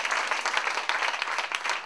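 A church congregation claps loudly and steadily, a dense, continuous wash of applause filling the room with no break.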